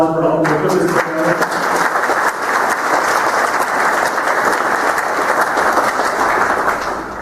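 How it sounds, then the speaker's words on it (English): An audience at a police department retirement, promotion and swearing-in ceremony applauds Katie Johnson with loud, sustained clapping that opens abruptly after a brief voice and stays dense and even, fading slightly at the end. "Can we give Katie a round of applause for helping us put this together?"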